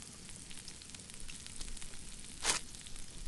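Fish sizzles in a pan in The Snow Queen interactive story game, a faint, steady frying hiss broken by one sharp crackling burst.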